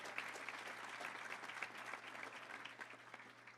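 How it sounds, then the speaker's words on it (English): An audience at a touchdown club luncheon in Little Rock gives a round of applause, with steady, dense clapping from a room-sized crowd heard alone at moderate distance. "Let's give him a round of applause."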